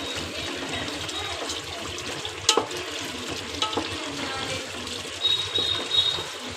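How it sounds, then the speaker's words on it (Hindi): Water goes into lentils frying in spices in a home kitchen pan, giving a soft sizzle and bubbling trickle with a few brief clinks and stirring scrapes, fairly quiet overall. "ये देखिए अब इसमें डाल दूँगी मैं पानी।"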